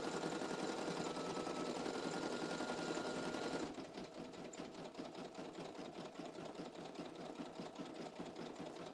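A sewing machine making the final stitches of an embossed embroidery design whirs rapidly and continuously up close, shifting partway through to a slightly quieter, more clearly pulsing rhythm.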